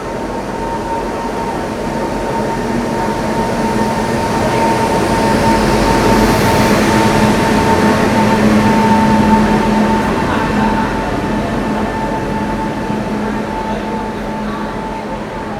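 The Haldighati Express pulls into a junction station near Agra, a steady low rumble of the moving train building gradually with a sustained hum and faint rail screech, fairly loud and continuous with no talk.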